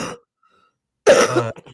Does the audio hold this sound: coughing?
yes